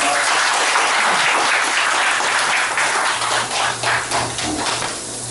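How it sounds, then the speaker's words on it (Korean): A crowd at a neighbourhood sports club gathering after a city amateur sports festival opening ceremony gives loud, dense applause that breaks into uneven, scattered claps as it tapers off. "다시 박수로 나타나보도록 하겠습니다"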